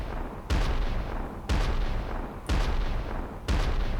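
Cannon fire from the SpongeBob Battle for Bikini Bottom video game: four loud, booming shots at an even one-second rhythm, each with a sharp attack and a short rumbling decay.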